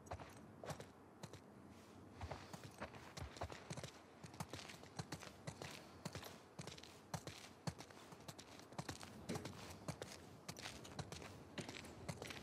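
Horse hooves clip-clop in The Last of Us Part 2, a steady walking rhythm of close, distinct hoofbeats with faint creaks of tack, continuing evenly with no talk over it.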